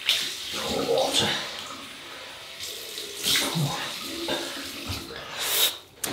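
Water runs from a cold tap in an uneven, splashing stream, close by, during a shave, with a few brief clatters and short vocal sounds mixed in.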